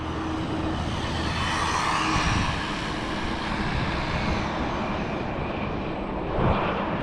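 A Rlaarlo AK 917 carbon fiber brushless RC car at full throttle on stock gearing gives a steady, loud, broadband whirring whine that holds throughout with slight surges, heard close and without talk.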